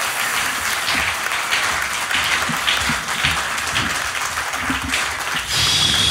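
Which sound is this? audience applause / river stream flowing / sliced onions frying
audience applause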